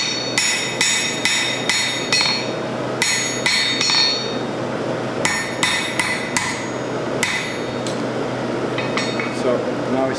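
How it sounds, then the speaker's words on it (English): A hammer forges the bevel of a bog iron blade. Sharp, ringing metallic strikes land in quick clusters of three or four, with short pauses between groups, over a steady hum of background noise. "it's time to tidy up the blade a bit and start forging out our bevel"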